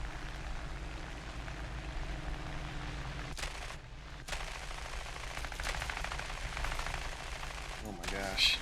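Aircraft cannon fire from a fighter in War Thunder, a steady rapid rattling stream that runs nearly continuously under engine noise, with brief pauses and a voice near the end.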